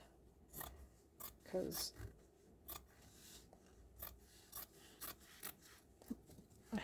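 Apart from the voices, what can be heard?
fabric scissors cutting material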